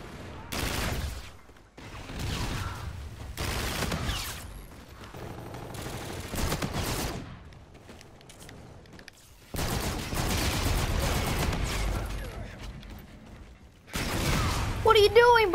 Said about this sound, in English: Wait, was that a shotgun?